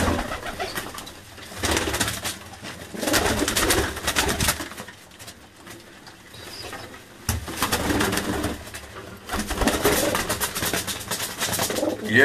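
Pigeons coo repeatedly in soft low waves that swell and fade, several birds overlapping and fairly close, with a faint steady background hum beneath them.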